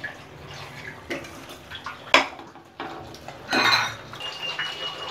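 Fried baby corn manchurian being tossed and stirred in a pan, with scattered clinks and scrapes of a utensil against the metal and one sharper knock partway through, close and moderately loud with no talking.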